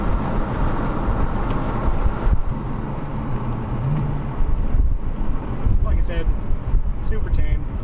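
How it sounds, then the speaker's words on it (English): Rushing wind buffets through the open windows of a 2003 Audi S8 with a swapped 6-speed manual as it drives in traffic, a steady roar with road and engine rumble underneath and a few gusty swells. "Hopefully you don't get too much wind noise"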